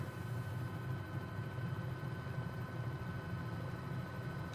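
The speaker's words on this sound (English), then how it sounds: "Overall, very nice helicopter there." A CowanSim Bell 206B3 helicopter flying near LAX in Microsoft Flight Simulator, a steady droning turbine and rotor hum with a low pulsing beat, continuous and even throughout.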